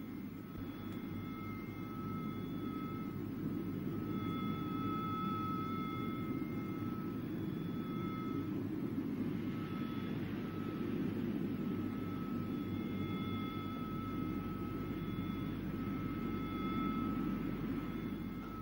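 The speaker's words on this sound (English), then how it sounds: "this film of planes being shot down on the same day" A military jet flies during a 1982 Falklands War air attack over the Falkland Sound, heard near a frigate. Its roar is a steady, loud, broadband rush that holds without a break for the whole stretch.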